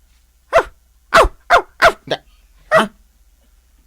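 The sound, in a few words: dog barking, police dog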